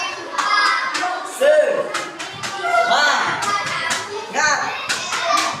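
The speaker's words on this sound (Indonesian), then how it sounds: "Tepuk semangat dulu, tepuk semangat." Elementary schoolchildren in a classroom clap together in a patterned spirit clap, loud bursts of group clapping mixed with children's chatter and a teacher's voice.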